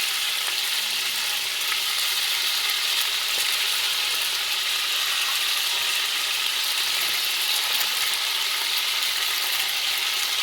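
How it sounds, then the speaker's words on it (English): Meat browns in a roomy pan for Italian Sunday sauce, sending up a loud, unbroken sizzle that holds steady and close throughout. "you want to make sure you have enough room to be able to brown everything nicely."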